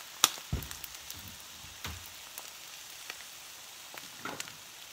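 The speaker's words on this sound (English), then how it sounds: "the bottom side should keep cooking, because the pan is still hot" An omelet cooks in a hot pan with a soft, steady sizzle, broken by scattered light clicks and taps of a utensil.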